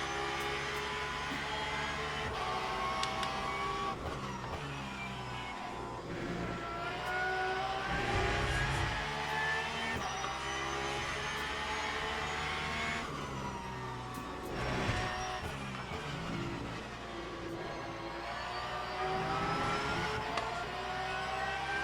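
A race car engine in the Le Mans Ultimate racing game drones loudly and continuously, its pitch climbing and dropping through repeated gear changes and throttle sweeps with no pauses.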